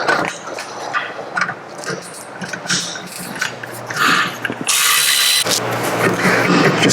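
Ratcheting and tool clicks while 7mm Allen caliper slide bolts are undone on a 1992 BMW E34 M5 brake caliper, close up, in short irregular bursts with a brief louder metallic rush near the end.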